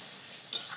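Mixed five-vegetable curry sizzles in a frying pan with a brief stirring scrape near the end, a short, soft, steady hiss heard close up.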